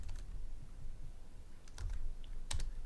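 Quick, irregular typing on a computer keyboard with clustered key clicks and brief pauses, fairly quiet and close, with no voices.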